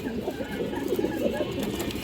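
A male pigeon coos close by in a pigeon market setting, a low, rolling throaty murmur repeating steadily through the short stretch over busy background noise.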